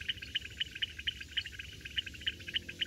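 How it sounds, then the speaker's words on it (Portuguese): Frogs call by a small pond at night, a faint, steady run of rhythmic, evenly spaced chirping pulses repeating several times a second. "estou aqui escutando esses coaxar de sapos"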